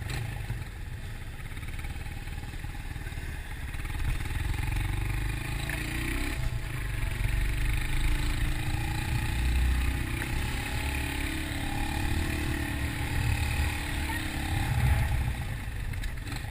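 A 2020 Bristol Classic 250 motorcycle weaves through a two-cone slalom, its engine humming at a steady, moderate distance with soft rises and dips in revs, fairly muted and continuous.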